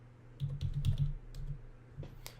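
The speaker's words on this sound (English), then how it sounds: "I'm going to come over to here and, I'll type squat." Typing on a computer keyboard: a quick run of close, soft key clicks, followed by a few sparser taps.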